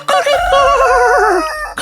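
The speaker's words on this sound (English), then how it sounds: "you've been waking up by chicken or a cock" A rooster crows loudly and close by at early morning in a village setting, one long cock-a-doodle-doo with a wavering drawn-out tail, standing alone with no talk over it.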